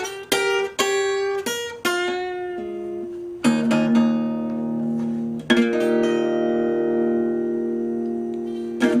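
Acoustic guitar plays a riff in delta blues style at a slightly quicker pace, plucked notes and chords ringing clearly and alone.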